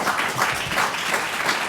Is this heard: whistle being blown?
no